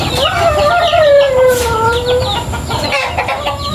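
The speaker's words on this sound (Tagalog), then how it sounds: "Ayun, nandoon na yung mga manok uba." A flock of chickens clucks and calls outdoors on a Philippine farm, close and loud, with overlapping clucks and a drawn-out crowing call rising and falling, joined by scattered bird chirps.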